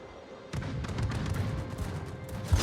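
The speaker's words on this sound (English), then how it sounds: "Haragumo's opening fire on him." Warship Haragumo opening fire in a naval combat video game, a dense barrage of overlapping cannon booms and blasts rolling on continuously, loud and close, with no talk.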